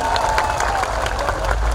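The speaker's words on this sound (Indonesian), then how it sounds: "jamaah oh jamaah alhamdulillah mana tepuk tangannya" A large congregation at a Kendal Bersholawat Islamic religious gathering claps and cheers. The applause is dense and continuous throughout a short burst, with a steady tone running beneath the crowd noise.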